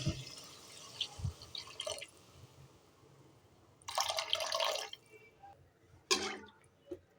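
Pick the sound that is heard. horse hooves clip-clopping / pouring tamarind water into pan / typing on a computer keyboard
pouring tamarind water into pan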